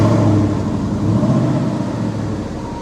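A Ford Coyote 5.0 V8 in a 2011 Zimmer Mustang starts up and rumbles, a deep throaty idle with a rising surge, close and loud throughout.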